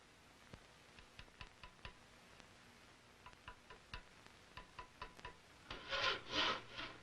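Chisel and wood taps while a wooden rifle stock is fitted to its barrel in a Williamsburg gunsmith's shop: a string of sharp, spaced knocks, then a short burst of louder rasping scrapes.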